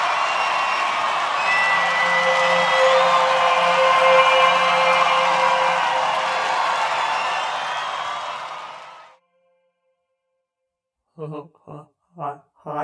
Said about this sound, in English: Give a round of applause to Unparalleled Innocence!